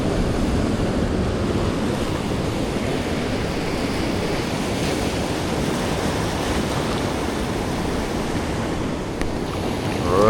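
Rough sea surf washes onto a rocky bay at Almond Bay, Toco, a steady, loud, continuous roar of breaking waves with some wind noise, and no voices.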